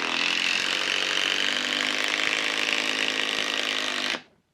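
A cordless impact driver drives an 8-inch timber lock screw into wood. A loud, continuous, buzzing whir runs for about four seconds, then cuts off abruptly into silence.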